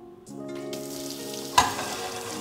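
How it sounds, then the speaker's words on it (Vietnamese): A garbage disposal in a kitchen sink starts up to grind food waste, a close, steady motor hum with one sharp knock partway through. "sau đó là bật máy xay rác lên."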